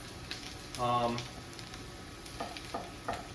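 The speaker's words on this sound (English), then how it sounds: "we're just going to saute the squash a little bit" Squash sautéing in a pan beside garlic for a rice bowl with mushrooms and tofu, a soft, fairly faint sizzle with a few utensil clicks and scrapes, plus a short tonal hum early on.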